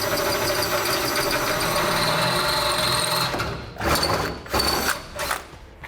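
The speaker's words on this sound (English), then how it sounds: "now that we have all of our pilot holes drilled, we can drill through the cross member to the final size." A power drill bores through the steel cross member of a Ram truck while a sliding fifth wheel hitch is installed. It is a loud, steady grinding whine for about three seconds, then several short stop-start bursts close by.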